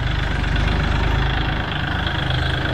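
A Kubota L4018 tractor's diesel engine running loud and close as it is driven uphill, a deep steady throbbing chug with a constant low rumble and no voices over it.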